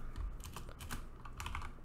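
Typing code on a computer keyboard, a steady patter of key clicks in quick irregular bursts, close and moderately loud, with no voices.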